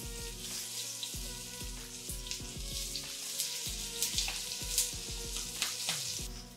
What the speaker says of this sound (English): The reason that I'm cooking them in the shell is because it kind of steams it as well as pan fries it